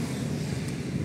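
Motorbike noise picked up by a Xiaomi 14T phone microphone, a dense low rumbling drone with wind-like roar, steady and loud throughout.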